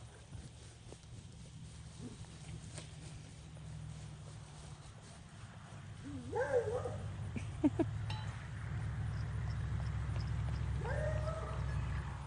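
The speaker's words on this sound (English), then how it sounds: "she's trotted a lot nicer and smoother" A horse trots on a lunge line during its first saddling, with faint rhythmic hoofbeats over a low steady rumble and a few brief tonal calls.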